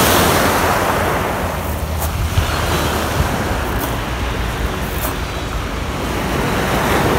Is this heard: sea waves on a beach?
yes